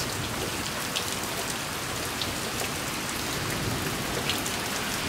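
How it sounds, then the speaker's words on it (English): Rain falls steadily outdoors, a dense, even hiss of drops close by with scattered small patters, continuous and unchanging, with no one speaking. "I was going to show you how rainy this is."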